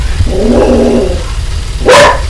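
A dog gives a low grumbling growl, then lets out one sharp bark near the mic over a constant background rumble.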